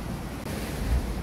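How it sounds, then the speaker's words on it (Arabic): Rough sea surging against a rocky Moroccan coastline, heard as a steady, full roar of breaking waves with wind buffeting the microphone, continuous and without any voices. "صعيبة شوية قاعد يعمر البحر."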